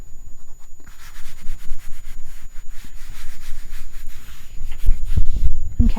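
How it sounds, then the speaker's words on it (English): Paper being rubbed flat by hand onto a journal cover, a steady close-up scuffing and smoothing with a few heavier thumps near the end, alone with no talk. "Make sure this side is all rubbed down"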